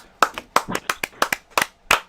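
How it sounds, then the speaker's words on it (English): A few hands clapping in welcome for guest rock guitarist Leslie West on a live radio show, about eight sharp, uneven claps spread over two seconds, close and fairly loud. "Oh, listen to that applause"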